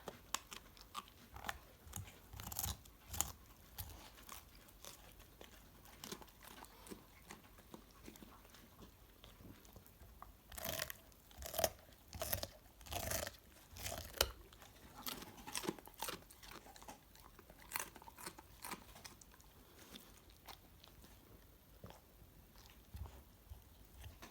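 Children chew raw white cabbage, a long run of crisp irregular crunches and bites, close and fairly quiet, with no talk.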